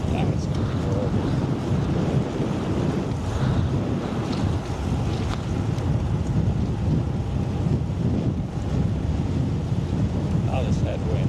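Steady, heavy headwind roars across the microphone of a motorcycle rider on the road around Phoenix, a continuous low rumbling buffet that lasts the whole stretch with no break.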